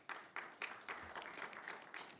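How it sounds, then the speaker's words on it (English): Audience applause at a National Press Club speaking event, a short burst of scattered hand clapping heard faintly at a distance with no talk over it. "well-deserved applause"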